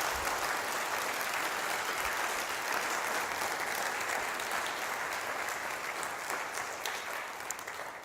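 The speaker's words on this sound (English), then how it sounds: "let's give them a round of applause for the amazing work they did" Sustained audience applause fills a livestreamed AFRL Inspire 2023 event, a dense, steady wash of many hands clapping from start to finish with no voices, tapering slightly at the very end.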